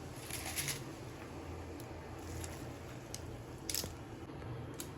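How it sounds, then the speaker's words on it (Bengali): Chopped cabbage tipped into a pot of hot water, giving faint, close squishing and soft splashing with a few brief rustles. "এবার আমি বাঁধাকপিগুলো যে কেটে রেখেছি সেগুলো আমি দিয়ে দেবো"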